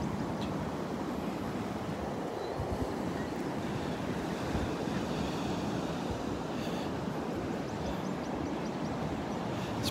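Ocean waves break and wash continuously onto the Delnor-Wiggins beach on a morning walk, a constant roar of surf mixed with wind buffeting the microphone.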